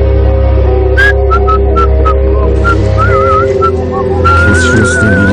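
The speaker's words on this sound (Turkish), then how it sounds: "Kes şu ıslığı" A person whistles a short tune in brief chirping notes and then a longer wavering trill, close and clear over a steady low rumble of a night setting in a dubbed horror film.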